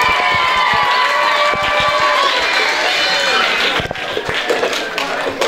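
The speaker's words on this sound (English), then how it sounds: "Let's get a round of applause for these guys." A large crowd at a New Year's Eve party in Ottawa claps and cheers loudly and continuously, dense applause filling the room with some scattered louder claps.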